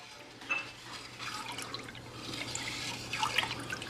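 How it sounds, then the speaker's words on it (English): Pickle brine being stirred in a pot on a stove as it starts to boil gives faint liquid sloshing and bubbling, with small splashes and drips over a low steady hum. "And we're just starting to come up to a boil now."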